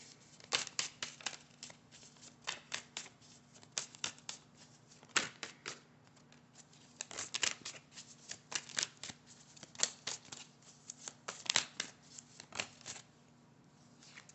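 Tarot cards being shuffled and pulled from the deck, a long run of crisp riffling and flicking bursts in uneven rhythm, close and fairly quiet, with no voices.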